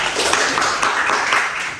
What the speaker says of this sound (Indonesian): silakan tepuk tangan dulu untuk kelompok 2